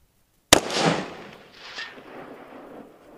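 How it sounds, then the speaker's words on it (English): A single sharp rifle shot, fired at a long-range target through a red dot sight, cracks out loud and then rolls away in a long fading echo over open ground. "Let's see if we can get a first shot on it."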